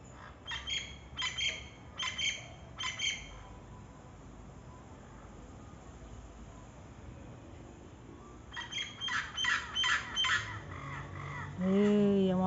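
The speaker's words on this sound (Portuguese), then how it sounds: "Que canto mais lindo, ó. Chamam de curica, papagaio, louro." Orange-winged amazon parrots (curica) call in a family flock at dusk, with bursts of harsh repeated squawks early and late and a loud nearby call at the end, over steady outdoor background noise.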